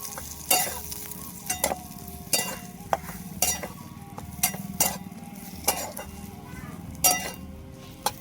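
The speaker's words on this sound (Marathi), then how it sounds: "आता परतून घेऊ मस्त तेलात मी हिरव्या मिरच्या" Green chillies and roasted peanut powder sauté in oil in a pan over a wood-fired stove, with a low steady sizzle under repeated spoon scrapes and metallic clinks against the pan.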